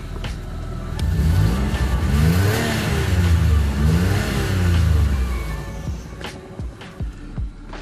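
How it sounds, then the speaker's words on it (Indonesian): The exhaust of a Toyota Harrier 3.0 (XU30, second generation) as its engine revs up and down twice in rising and falling sweeps, loud and close, then settles with a few clicks and knocks. "Kita dengerin coba suara knalpotnya."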